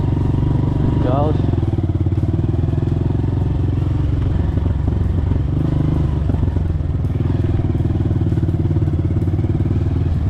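Motocross motorcycle engine revs steadily under the throttle, a loud, continuous close-up drone with voices mixed in beneath it.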